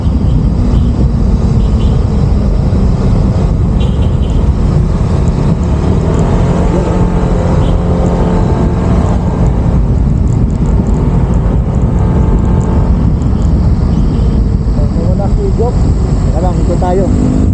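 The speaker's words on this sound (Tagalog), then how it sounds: "Naka-open pipe tricycle." A tricycle with an open exhaust pipe roars continuously at close range on a ride near the sea at Marilaki, a loud, unbroken engine drone that fills the whole stretch, with voices partly buried beneath it.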